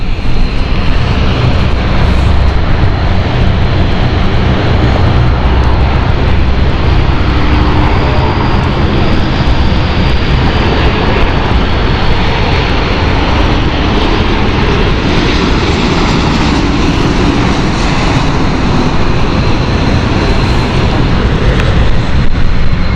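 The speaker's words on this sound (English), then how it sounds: "Inbound next we have City Flyer coming in. This is the Edinburgh flight." A City Flyer airliner on the Edinburgh service landing at London City Airport, a loud continuous engine roar and rushing noise sustained throughout without any talk.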